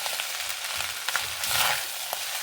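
Seasoned leftover rice with garlic and coriander leaves is stirred in a pan, soft scraping and faint sizzling at low level, a slightly louder burst of movement midway, no voices.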